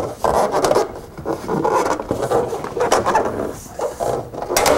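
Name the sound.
metal roofing ridge cap being snapped into place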